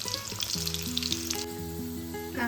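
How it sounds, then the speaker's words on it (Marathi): Onion frying in hot oil for chicken biryani gives a bright, dense sizzle with fine crackles, close and moderately quiet, while sustained musical tones play alongside. "कांदा छान तळलेला आहे."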